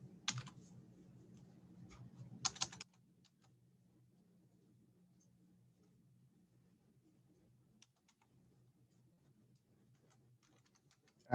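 Typing on a computer keyboard: a dense burst of clicking keystrokes in the first three seconds, a brief second flurry, then only faint isolated taps over a quiet, humming background with no talk.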